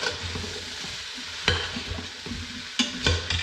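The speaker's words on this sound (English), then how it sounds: "And we're going to stir those up." Vegetables being stirred as they sauté in an Instant Pot, with a steady low sizzle and a few sharp scrapes and clacks of the spoon against the pot, close up, no voices.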